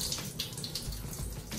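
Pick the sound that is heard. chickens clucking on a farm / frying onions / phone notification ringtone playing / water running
water running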